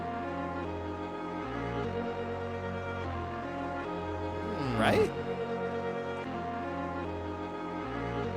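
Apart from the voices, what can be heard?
music loop beat for an Evangelion freestyle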